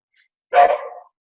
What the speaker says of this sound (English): that was my dog you heard in the background